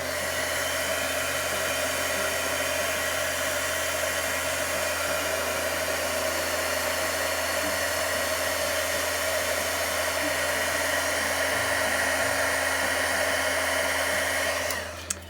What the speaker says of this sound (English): So you definitely want to be using a heat gun for this that is going to melt that powder.